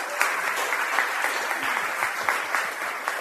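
An audience gives steady applause for a group of readers at a reading event, a dense wash of clapping with a few sharper individual claps, with no voices heard.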